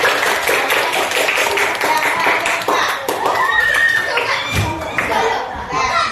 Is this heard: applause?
yes